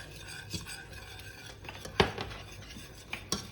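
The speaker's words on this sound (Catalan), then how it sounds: "I ara vinga a remenar perquè no se'ns enganxi" A utensil stirring crema catalana custard in a pot gives soft scraping and occasional sharp clinks against the metal, with one loud knock near the middle and a couple of lighter taps toward the end.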